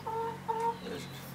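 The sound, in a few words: chicken clucking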